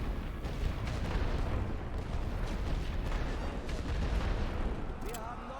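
Artillery barrage and gunfire from the World War I strategy game The Great War: Western Front form a dense, continuous roar of booms and cracks that stays loud and unbroken for the whole stretch.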